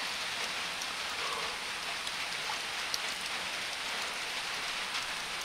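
Steady night rain on a midsummer night, with a constant dense hiss and faint scattered drops that may include hail, continuous and even in level with no voices.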